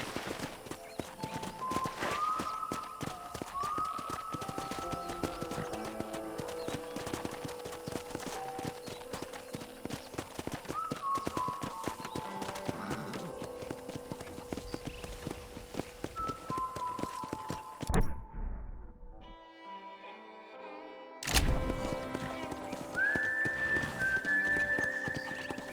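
Horse hooves clip-clopping at a steady gait in the Red Dead Redemption video game, continuous and fairly close, with game music tones over it and a brief near-silent gap before the rhythm resumes.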